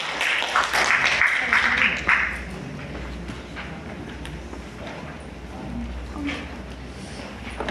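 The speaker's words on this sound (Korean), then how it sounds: "지금 다시 한번 이선영 교수님 박수로 환영 부탁드리겠습니다" An audience at a university forum session applauding to welcome a speaker, a brief burst of clapping in the opening two seconds that quickly fades into a quieter, murmuring room.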